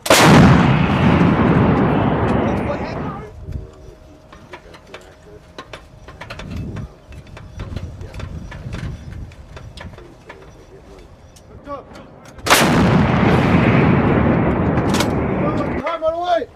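An M777A2 howitzer fires two shots: each a huge, close blast with a long rumbling roll, about twelve seconds apart. Between them come quieter shouting voices and a pigeon cooing nearby.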